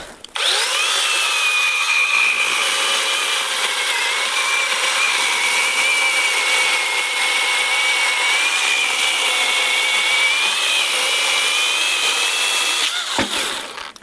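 A Grosser GCS 120HS cordless chainsaw cuts through a thick red oak log, a loud, close, steady high-pitched whine lasting over ten seconds before spinning down.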